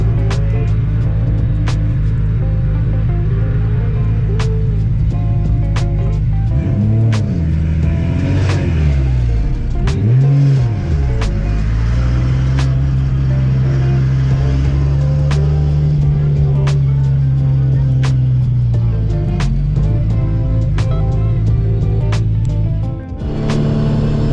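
A Nissan Skyline R32 GTR engine drones and revs loudly and close while sliding at Irwindale, holding a steady pitch with rising and falling swells.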